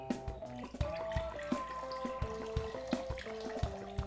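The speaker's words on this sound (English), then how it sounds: "we're gonna measure out our 500 milliliters of water" Water pours from a tap into a liquid measuring cup, 500 millilitres for a sugar-and-paprika syrup, with a steady close trickle marked by repeated small splashes and drips and no talk.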